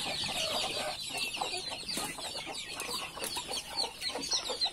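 A mother hen guarding a nest of duck eggs clucks and murmurs repeatedly at close range, a busy run of short throaty calls with no talking over them.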